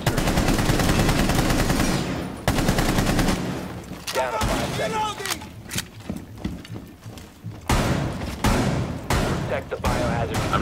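Rapid automatic gunfire in the video game Rainbow Six Siege as ceilings are shot out, loud sustained bursts broken by short pauses and scattered single shots, with voices talking over it.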